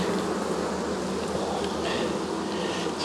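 Honey bees buzz in a steady, soft drone during a late-season hive inspection, the insect hum filling the clip evenly and close by with no talking.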